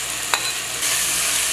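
Grated green mangoes and chopped tomatoes with a little water are stirred in a cooking pot, producing a brief close scrape followed by a steady wet sizzle.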